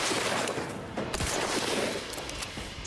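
Gunfire in The Outer Worlds 2 crackles through a dense, noisy game soundscape, with a few scattered shots standing out briefly.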